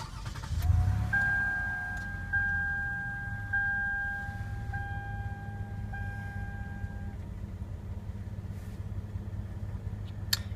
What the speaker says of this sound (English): hit the engine start button